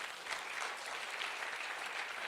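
A church congregation applauds together in a steady, dense wash of clapping that holds evenly throughout, heard from some distance and moderately loud, with no distinct voices.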